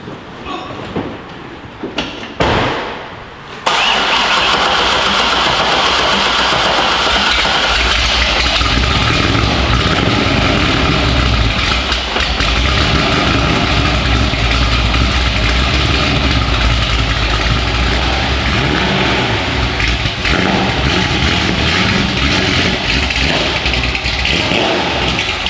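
A car with a Kromer Kraft exhaust fires up from cold after a brief silence, then settles into a loud, steady, rumbling idle that drones on for over twenty seconds.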